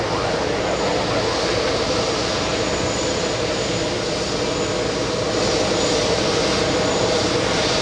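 A JetBlue airliner taxiing to Terminal 5 at JFK Airport, its jet engines giving a steady, loud, close whine and rumble that holds throughout.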